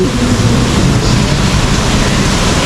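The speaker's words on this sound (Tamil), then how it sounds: "தண்ணிலாம் அப்படியே வழிந்து ஓடிக்கிட்டு இருக்கு ஒரு பக்கம்." Water overflows and gushes everywhere at a tank near a station in Thailand, a steady loud rushing roar that fills the whole span with no pauses.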